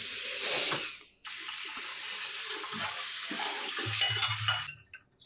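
Soaked shrimp rinsed under a running kitchen tap for Vietnamese banh xeo, a steady broadband rush of water that briefly stops and resumes, with small clinks and handling sounds near the end.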